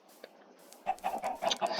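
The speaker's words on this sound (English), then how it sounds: "So, over here, chickens." Chickens on a farm in a video game cluck in a quick series of short, mid-pitched calls that start after a near-silent opening, fairly close and moderately loud, with no talking over them.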